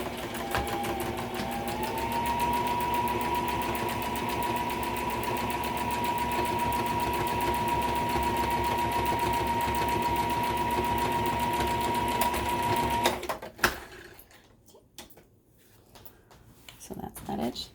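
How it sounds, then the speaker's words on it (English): A sewing machine stitches a fabric mask seam, a rapid even mechanical whir running steadily for about thirteen seconds before stopping abruptly, followed by quieter handling noises while a person talks. "You're gonna sew the whole way through at 3/8."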